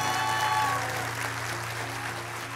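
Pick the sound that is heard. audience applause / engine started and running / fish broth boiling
audience applause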